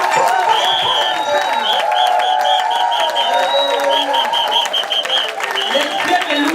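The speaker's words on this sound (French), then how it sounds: "est-ce que les femmes qui sont assises, est-ce qu'ils peuvent acclamer pour les hommes?" A church congregation of seated women applauds and cheers for the men, a steady wash of clapping with shrill cheers and ululating cries over it, loud and close throughout.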